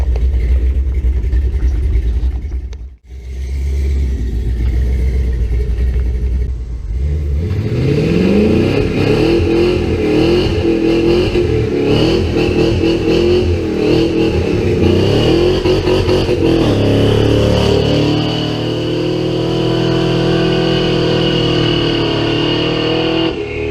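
An LS-swapped GMC S15 pickup with a 3/4 race cam revs hard and loud, its engine climbing and falling through repeated sweeps with a choppy, lumpy note, close by and with no talking.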